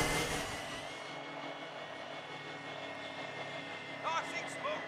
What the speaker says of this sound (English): Recon drone active.